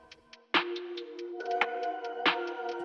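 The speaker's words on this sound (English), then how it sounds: "So we're going to put a quick love filter on the drums." A muffled, filtered drum loop ticks along with soft hi-hat hits over a sustained tone, with a few sharper accents cutting through.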